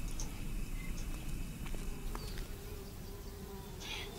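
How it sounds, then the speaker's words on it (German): Buzzing bees in the hidden object game Connected Heart: a faint, continuous low drone and hum with a few light clicks and a soft higher burst near the end, heard alone. "So, hier haben wir noch die Bienen."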